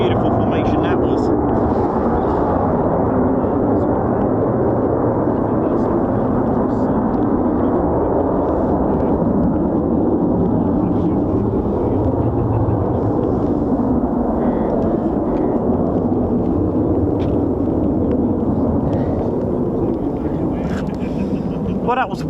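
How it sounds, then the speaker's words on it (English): A pair of RAF Eurofighter Typhoon FGR4 jets takes off together, producing a loud, sustained roar that holds steady for over twenty seconds before easing slightly toward the end. "to see a pair's departure there, pair's takeoff as it's called"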